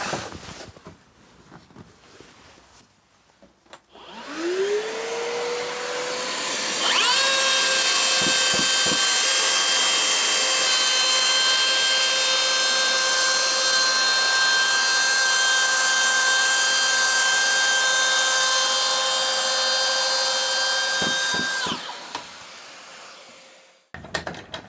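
Power saw spins up with a rising whine, then cuts through an oak-faced MDF panel in a long, loud, steady high-pitched run of about fifteen seconds before winding down, close and alone.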